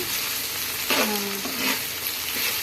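Vegetables dropped into hot oil with a fried tempering sizzle steadily and close by, with a brief stirring scrape partway through.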